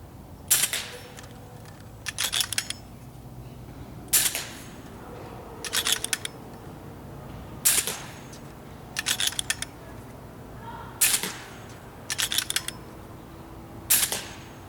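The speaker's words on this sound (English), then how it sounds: "Let's do another 5-shot string and see what it does." A .25 caliber Hades air rifle fires in a slow, even string of sharp cracks, each shot followed by a short rattle of mechanical clicks, fairly close against a quiet background.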